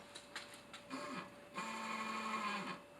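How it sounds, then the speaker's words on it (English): Electric motor of a BladeZ XTR Comp scooter powered by a newly fitted lithium-ion battery, whirring up in two short bursts, a brief spin then a longer steady whine, close and fairly quiet. "we should get some power from the motor"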